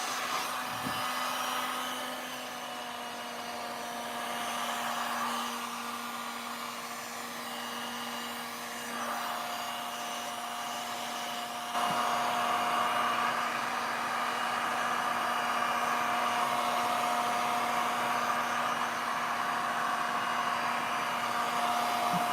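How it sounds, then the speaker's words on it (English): A heat gun used for craft and art work runs with a steady, close blowing whoosh and a faint motor hum for the whole stretch, growing slightly louder partway through. "This, definitely this heat gun needs a little help."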